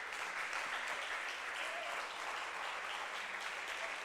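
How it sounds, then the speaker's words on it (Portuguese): A church congregation applauds with dense, sustained clapping that holds steady and even, heard from a distance. "Vamos aplaudir Jesus,"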